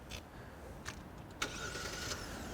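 A 2022 Genesis G80 is started remotely with its key fob: a few faint clicks, then the engine catches with a soft surge and settles into a quiet, steady idle heard from outside.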